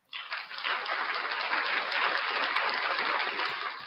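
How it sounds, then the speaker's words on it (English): Audience applause for an act on a live breakfast show, a dense steady wash of clapping that starts abruptly and holds at an even level for a few seconds, with no voices over it. "Round of applause for Blackheart Night."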